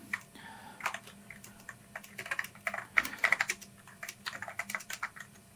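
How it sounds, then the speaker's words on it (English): Keys clatter on a Macintosh SE/30 computer keyboard in irregular bursts of quick taps with brief pauses, close and moderately quiet, with no voices. "And we can test out the keyboard."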